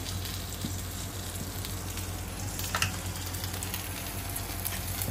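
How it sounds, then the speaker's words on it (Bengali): Pointed gourd slices frying in oil in a pan, giving a steady, moderately loud sizzle with no talking throughout. "পটল ভাজা"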